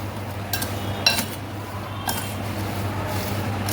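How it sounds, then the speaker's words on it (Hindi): A serving spoon mixes salt into raw mango pickle, giving a few sharp metallic clinks and scrapes against the container over a steady low background hum. "इसको अच्छे से मिक्स कर देंगे हम"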